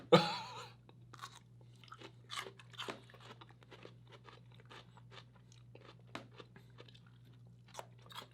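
Someone chews crunchy superhot chili pickles made with 7-pot Douglas, Naga Viper, Jigsaw and Chocolate Bootlegger peppers, a close, quiet series of irregular crunches and bites over a low steady hum.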